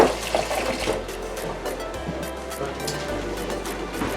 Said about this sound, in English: Just going to add some water to it.